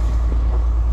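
A John Deere tractor fitted with a loader runs close by, its engine a steady, loud diesel rumble with a strong low drone that holds unbroken through the whole moment.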